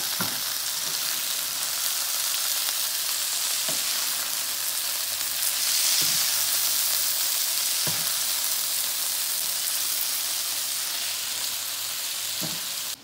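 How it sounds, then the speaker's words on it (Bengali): Leafy greens with green chillies frying in a pan, a loud continuous hiss and sizzle broken by occasional soft knocks and scrapes of a utensil. "আমি শাকগুলো দিয়ে দিচ্ছি।"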